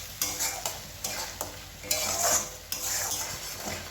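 Spice masala with a spoon of sugar sautéed in oil for a raw banana kofta curry, a steady close sizzle broken by repeated scraping stirs of the spoon against the pan.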